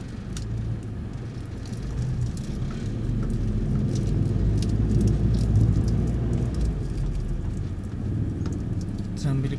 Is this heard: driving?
yes